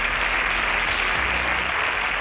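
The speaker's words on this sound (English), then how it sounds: "A round of applause for him." Steady, dense audience applause at a televised quiz competition, a brief continuous burst of many hands clapping at close range, with no talk.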